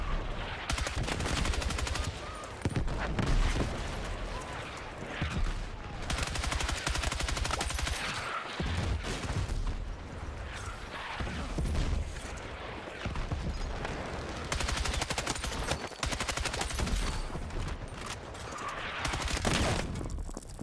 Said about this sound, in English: Dude, I'm getting cooked by mortars.